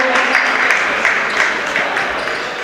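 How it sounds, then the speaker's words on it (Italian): Steady applause from an audience at a youth futsal match between Antenore Sport Padova and Bissuola, a dense wash of clapping held at even loudness throughout. "fate sentire l'applauso ai ragazzi"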